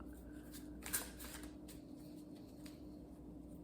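Tarot cards are shuffled quietly nearby, soft papery riffles and slides with one sharper snap near the start, no talking.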